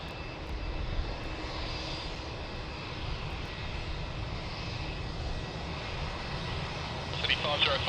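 Airplane engines roar steadily at Sydney Airport, a continuous broad rumble that swells slightly at the end, with radio voices under it.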